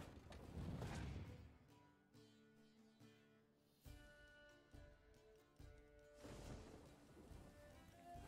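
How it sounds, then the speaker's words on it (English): Torrential rain in The Witcher 3 makes a steady wash of downpour, loudest at the start and again near the end, beneath layered game music, fairly faint overall. "Just so happened to have a torrential rain"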